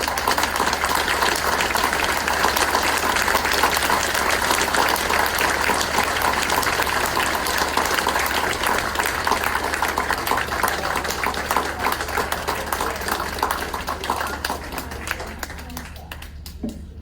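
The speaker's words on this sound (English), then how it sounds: "How about a nice round of applause for Marguerite?" A crowd applauds at an outdoor memorial park re-dedication ceremony, steady broadband clapping that holds for many seconds before slowly fading near the end.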